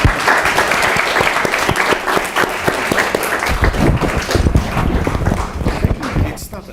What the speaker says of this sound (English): join me for a good clap.